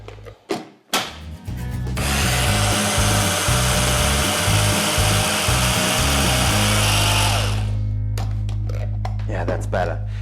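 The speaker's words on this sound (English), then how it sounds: "so I put it in the machine a second time and cut it" An electric kitchen machine whirs loudly for about five seconds as it finely chops dumpling ingredients, with a pulsing, grinding motor tone, preceded and followed by knocks and handling clatter, and a person talking around it.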